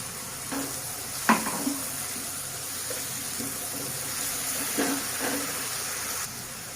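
Ground spice paste is added to tomatoes and onion cooking in a pan, giving a soft low sizzle with intermittent stirring clatters and utensil taps, fairly quiet and without talk.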